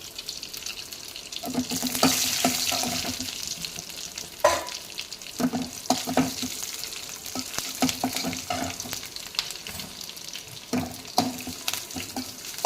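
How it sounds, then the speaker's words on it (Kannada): Crushed garlic frying in a pan with dried chillies and curry leaves for a drumstick sambar, a moderate continuous sizzle with scattered stirring scrapes and clinks, and no talking. "ಬೆಳ್ಳುಳ್ಳಿ ಕೆಂಪುಗಾಗೋವರೆಗೂ ಫ್ರೈ ಮಾಡಿ"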